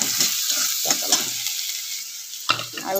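Onions fry in hot oil with spices, a steady bright sizzle running throughout, broken by several stirring scrapes and a louder clatter near the end.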